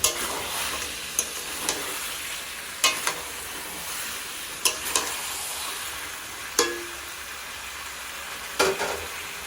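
Chicken frying in a pan at home, a steady soft sizzle with several sharp clinks of a utensil stirring against the pan at intervals, no talk.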